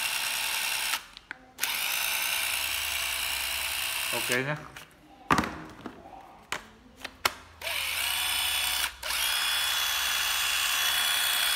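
An old cordless battery drill whirs in several loud bursts, stopping and restarting with short gaps and clicks between runs, and a voice speaks briefly.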